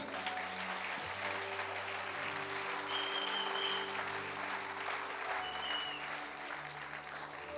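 A church congregation at a French-language service breaks into loud, sustained applause in praise of the Lord, with dense clapping filling the hall and a low hum of voices beneath it.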